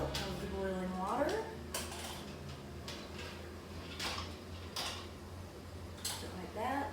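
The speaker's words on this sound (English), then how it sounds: "we're going to pull these jars out of the boiling water." Glass canning jars of candied jalapenos lifted from a boiling water bath, giving a few sharp clinks and knocks over a low steady hum, with a quiet voice and faint creaks in between.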